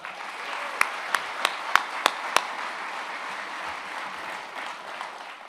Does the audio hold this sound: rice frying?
no